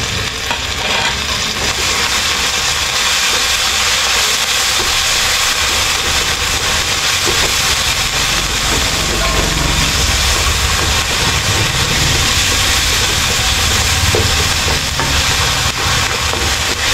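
Fresh shrimp paste (alamang) fries in a pan with garlic and onion, giving a loud, steady, close sizzle that runs unbroken throughout. Scraping stir strokes can be heard now and then.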